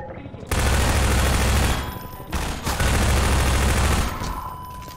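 Loud, rapid bursts of automatic weapon fire in Half-Life 2, two long sustained volleys with a short break between them, close and dominant.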